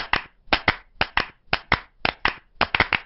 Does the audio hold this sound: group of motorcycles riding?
no